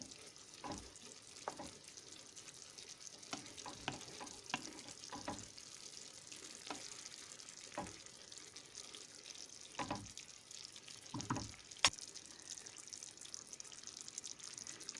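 Chicken sauté cooking in a pan right after a glass of hot water is poured in, giving a steady close bubbling sizzle with scattered clinks and stirring knocks, one sharp tap near the end, and no talking.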